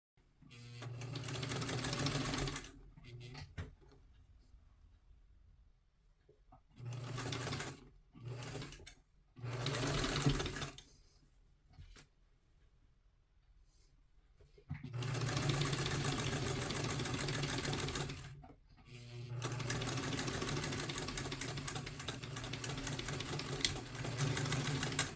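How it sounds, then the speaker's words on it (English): Sewing machine topstitching a two-piece collar, running in several steady whirring bursts of a few seconds each, separated by quiet pauses, close and fairly loud. "And then I will top stitch at about 1/16 of an inch from the edge."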